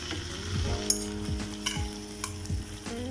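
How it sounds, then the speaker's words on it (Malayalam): Chicken sautés over a medium flame with a soft, continuous sizzle, overlaid by repeated scraping strokes of a spoon against the pan and a faint low hum throughout. "ഒരു മീഡിയം ഫ്ലെയിമിൽ നമുക്ക് ചിക്കൻ നന്നായിട്ട് ഒന്ന് വഴറ്റിയെടുക്കാം."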